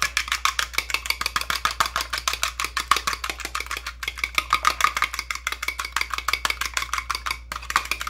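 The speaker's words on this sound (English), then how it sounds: "So I'm just going to take an egg, crack it. I'm just going to beat it up a little bit." An egg beaten briskly with a fork or whisk in a bowl, a fast, steady run of light clicking taps repeating several times a second, close and clear with no talk, before shrimp fried rice.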